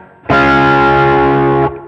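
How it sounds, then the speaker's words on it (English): Electric guitar through a Hotone Ampero Mini Fender Bassman amp model with mild Zen Garden Drive overdrive and a touch of church reverb: one loud, slightly gritty chord rings out, sustains evenly for over a second, then cuts off, played alone. "I am just using the Fender Bassman with a little bit of dirt in the front from the Zen Garden Drive"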